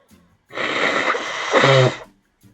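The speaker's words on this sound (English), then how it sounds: "I'm sorry, I'm blowing my nose again." A person with a cold blowing their nose, one loud, close, rough honking blast of about one and a half seconds that swells near the end, with faint breaths before and after.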